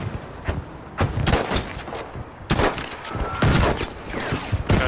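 Repeated gunshots in the video game Battlefield V: Firestorm come in sharp separate bursts, some single cracks and some quick volleys, loud and close with brief gaps between them.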